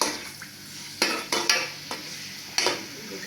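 Chicken pieces frying in oil in a pan as a spoon stirs them, with about half a dozen sharp metallic clanks against the pan over a soft, steady sizzle. No talking.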